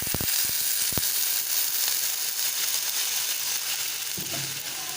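Water hits frying jackfruit curry in a hot pan, setting off a loud, steady sizzling hiss that fills the whole stretch after a few sharp clicks at the start, with no voices.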